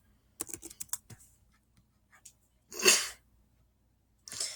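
Computer keyboard typing during the Nitro Type typing game, a quick burst of clicky keystrokes near the start followed by a few scattered taps, then a loud sneeze-like burst and another noise at the end.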